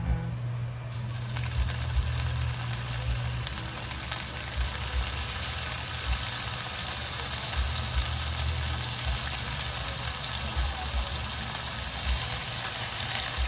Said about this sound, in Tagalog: ipiprito po muna natin siya